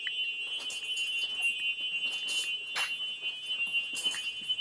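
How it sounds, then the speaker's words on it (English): Steady high-pitched electronic alarm tone from a school bus after its engine is switched off, sounding continuously and loudly, with faint clicks and knocks in the cabin. "when you turn the bus off, you'll hear an alarm sound."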